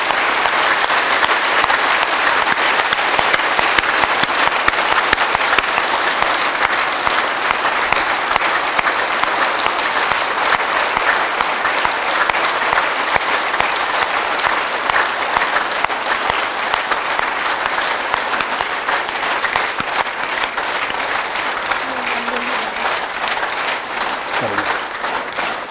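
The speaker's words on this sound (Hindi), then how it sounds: "मेरे उन कार सेवकों के लिए 1 मिनट जोरदार तालियां बजाओ" Sustained, loud applause from a large crowd fills the space without pause, honoring volunteer workers who built a yoga ashram at its inauguration ceremony; a faint voice surfaces briefly near the end.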